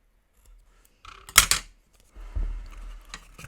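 Scissors cut a rounded shape with a few crisp, close snips, the loudest in the middle, followed by a soft rustle.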